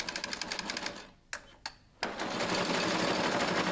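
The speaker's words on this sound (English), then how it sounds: "Lower the top roller and carry on sewing." A Flexorand Speedbinder sewing machine stitches binding tape onto the edge of a carpet. It starts in a steady rapid stitching run, breaks into short bursts, then settles into a loud, continuous hum. No one talks.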